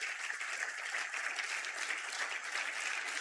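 Dense, continuous applause from a church congregation fills the space throughout, a steady wash of many hands clapping with no break and no voices standing out.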